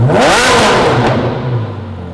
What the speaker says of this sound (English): he started my personal favorite of the bunch, the 430 Challenge. Just listen for yourself